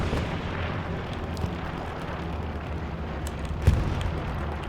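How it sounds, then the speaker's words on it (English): Artillery barrage in the World War II shooter Hell Let Loose, a constant low rumble of distant explosions with scattered crackling impacts and one sharper, nearer thud toward the end. "Artillery is pummeling"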